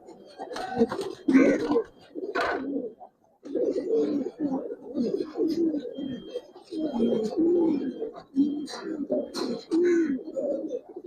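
A pair of Giribaz pigeons in a loft coo repeatedly, their low, throaty calls rising and falling in close, continuous bursts with short pauses between them.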